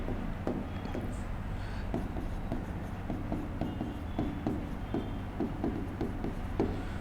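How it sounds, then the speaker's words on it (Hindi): Pen scratches quickly across paper as a student writes out a geometry answer, a close, soft run of rhythmic strokes and taps that continues throughout, with no talking. "चलो अच्छे से लिख देता हूं"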